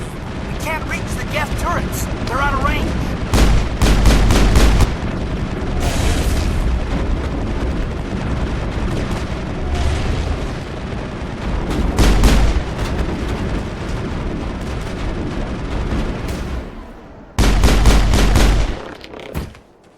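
Gunfire from Geth turrets in the Mass Effect Virmire battle, repeated loud bursts and booming impacts in clusters throughout, with combat chatter and radio voices over the din.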